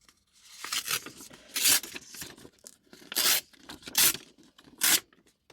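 Kraft paper torn by hand for an art journal page, in five or six loud, close ripping bursts of varying length, separated by quieter rustling and handling.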